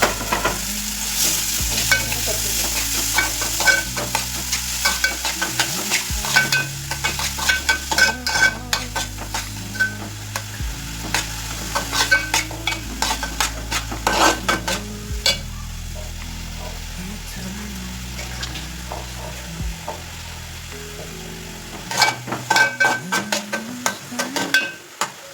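Finely chopped onion frying in a pan for a street-style prawn chutney, with loud continuous sizzling and frequent clattering spatula stirs and scrapes against the metal, close and busy throughout.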